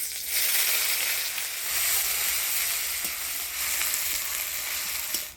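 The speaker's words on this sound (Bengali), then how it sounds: "পেঁয়াজটা ফোড়নের তেলে হালকা লাল করে ভেজে নিলাম" Chopped onion fries in hot oil tempered with whole garam masala, cinnamon, cardamom, cloves, dried red chilli and bay leaf, giving a steady, close, hissing sizzle with faint stirring clicks.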